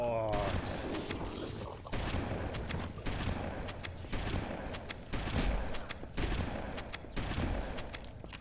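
Shotgun blasts in the video game Halo CE come as a rapid, dense string of loud booming shots, one after another. Game sound fills the background throughout.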